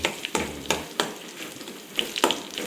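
Garlic fries in a pan with a soft, continuous sizzle, broken by several sharp scraping clicks of a spoon stirring at irregular intervals, close and alone with no voices.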